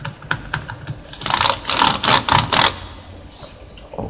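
Keys pressed on an HP EliteBook Folio 9470m laptop keyboard with a broken trace: a few separate clicks, then a quick burst of rapid typing taps before it trails off to quiet.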